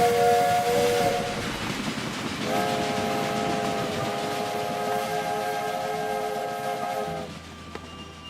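A freight train whistle in the Railway Empire 2 video game blows two sustained multi-tone blasts, a short one and then a long one of about five seconds, over a steady rumble of rolling rail noise.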